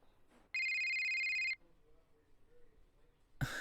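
A telephone rings once in a single steady electronic trill lasting about a second, clear against a quiet room, with faint voices and a sharp noise at the end.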